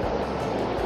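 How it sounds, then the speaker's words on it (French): A small waterfall on a hiking trail along the Brague river, rushing water pouring steadily under a little footbridge, a close, constant broadband splash with no pause. "La petite cascade ici."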